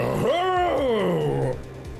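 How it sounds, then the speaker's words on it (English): A single dog in the game Ace Attorney lets out a drawn-out, rising-then-falling howling bark, close and loud, with a steady low hum underneath. "He's barking again."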